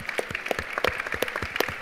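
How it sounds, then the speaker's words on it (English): Audience at a sustainability and food waste talk applauding a speaker: a moderate round of clapping with distinct individual claps standing out, fairly close and steady for the whole stretch. "Another round of applause, I think, for Dr. Kahn."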